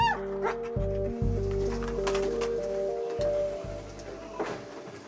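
A customs sniffer dog searching a cabin in Tahiti yips, barks and whimpers in short bursts, close by, over a steady background hum.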